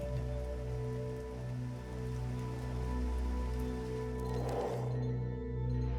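Rain falls steadily in a cozy deckbuilder game's ambience, a soft, even wash of drops layered over low sustained tones, with the rain briefly swelling near the end.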